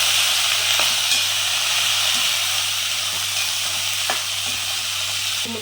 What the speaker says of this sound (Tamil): இப்போ வந்து நம்ம கட் பண்ணி வச்சுருக்க பொடலங்காயை இதில் சேர்த்துருவோம். நல்லா கிளறி வச்சுட்டு